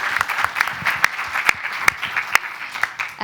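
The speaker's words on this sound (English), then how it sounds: "Thank you again. Round of applause." Brief audience applause after a talk at an indoor session, a dense patter of clapping at moderate level with a few sharper individual claps standing out, running steadily from start to finish.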